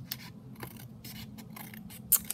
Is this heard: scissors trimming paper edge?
yes